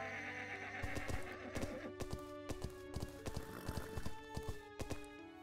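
A horse in the video game Everdream Valley whinnies and its hooves clip-clop at a gallop, a string of sharp repeated hoofbeats layered over a steady game soundtrack with no talking.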